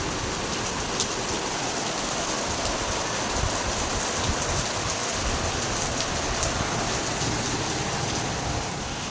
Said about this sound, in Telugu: వర్షం అయితే అస్సలు ఆగట్లేదు చూడండి